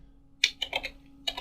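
Commands being typed on a computer keyboard: a short burst of several crisp, close keystrokes in quick succession, a brief pause, then two more taps, with no voices.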